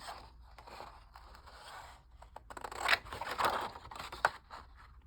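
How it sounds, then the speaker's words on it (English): Scissors cutting around a printed paper tag pocket for a beach-themed junk journal, with close, quiet snips and crackling paper rustles that grow a little louder toward the end, with no talk. "So let's just cut around the outside of this tag pocket."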